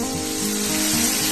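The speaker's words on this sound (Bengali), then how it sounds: "এবার এর মধ্যে আমি দিয়ে দিচ্ছি নারকলের দুধ, অল্প অল্প করে দিচ্ছি।" Coconut milk poured a little at a time into a hot pan of spiced masala for steamed egg malaikari, giving a steady close sizzle with no talking.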